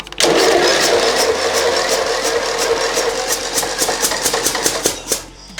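Car engine cranking over and failing to start, a loud rapid rhythmic churning of the starter that slows and falters toward the end, close and with no talk.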